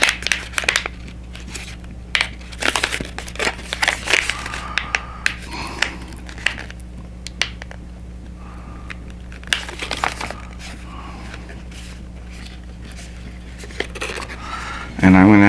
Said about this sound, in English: So I'm going to open up a new pen nib for this one.